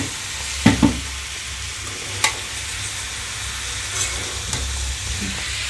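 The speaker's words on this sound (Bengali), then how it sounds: "ভালো করে নাড়াচাড়া করে দিলাম" Sliced papaya for a plain white bhaji sizzles in oil in a frying pan while a spatula stirs it, with a few sharp clanks against the pan over a steady frying hiss; no one speaks.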